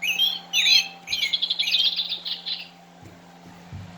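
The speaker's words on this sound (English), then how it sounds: "American robin, new design. American robin, old design." Recorded American robin call from a Wild Republic Audubon plush bird toy, a run of bright chirps and squeaky phrases for about three seconds over a steady electronic hum, followed by a few soft handling bumps.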